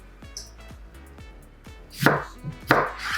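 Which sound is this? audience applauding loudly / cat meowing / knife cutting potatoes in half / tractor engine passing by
knife cutting potatoes in half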